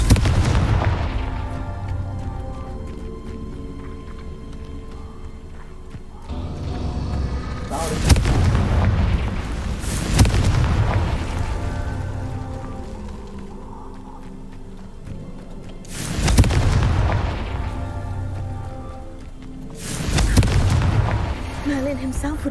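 Confringo explosive spells in the Hogwarts Legacy video game go off as four heavy booming blasts spaced a few seconds apart, each with a rumbling tail over a low background, with voices at times.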